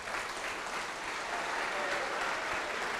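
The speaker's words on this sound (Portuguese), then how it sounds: "Vamos aplaudir a palavra de Deus" A church congregation breaks into steady, dense applause that fills the room evenly from start to finish, somewhat distant and with no clear voices on top.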